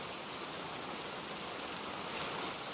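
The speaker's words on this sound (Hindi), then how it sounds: "हे भगवान, कितनी जोरदार बारिश हो रही है।" Heavy rain pours steadily in a dense, even hiss with no breaks, soft and continuous throughout, with no voices.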